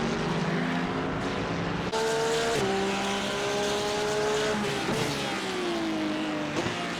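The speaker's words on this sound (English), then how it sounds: "And Justin spins his car." A GT3 race car spins out at Circuit de Barcelona in a racing game, engine whining and shifting pitch over loud sliding tire squeal, with a sharp burst of skidding near the end.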